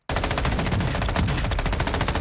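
Rapid, loud game weapon fire from a video game where a shotgun is in use, a sustained rattle of evenly spaced shots for about two seconds, close and alone without talk.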